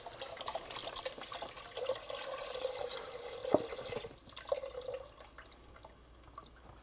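Vegetable broth pours into a soup pot of lentil soup, heard as a faint, steady liquid stream with small drips and splashes that taper off near the end.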